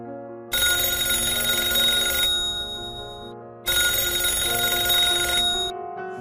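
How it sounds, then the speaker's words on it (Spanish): A telephone rings in two long electronic bursts separated by a short pause, loud and close, with no other sounds. "suena el teléfono de Carlos"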